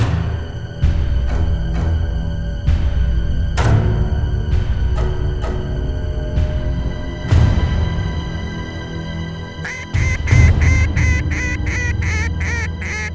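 Mallard ducks in a field honk and quack in repeated bursts, with a dense rapid chorus of calls near the end; loud and fairly close, no talking.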